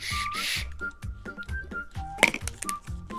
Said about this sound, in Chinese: 还有玩具，是一个口哨糖。